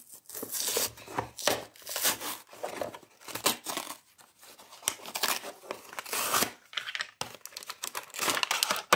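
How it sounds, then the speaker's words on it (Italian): Close plastic crinkling and rustling, with sharp crackles and tearing sounds in uneven bursts, as a doll is pulled out of its plastic packaging. "si tira fuori dalla plastica tranquillamente"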